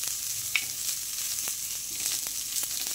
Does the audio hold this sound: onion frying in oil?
yes